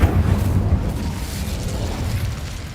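Incendio fire spell cast in the Hogwarts Legacy video game, a loud whooshing burst of flame that rumbles and fades over a few seconds.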